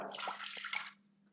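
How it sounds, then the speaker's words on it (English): Water kefir poured into a Thermomix bowl, a short steady splashing pour lasting about a second, then stopping with near silence, no talking. "I'm putting in 100 grams of water kefir,"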